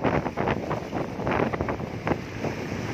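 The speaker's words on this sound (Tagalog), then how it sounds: "Lakas na ng hangin." Strong wind buffeting the microphone in loud, rumbling gusts, with what may be water sloshing in the background.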